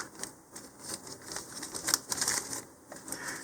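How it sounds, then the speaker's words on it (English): Plastic parachute bag from an Estes Phantom Blue model rocket kit being cut open with small scissors, heard as soft, rapid snipping and crinkling, close and fairly quiet, with no talking. "So just carefully cut the bag that has it."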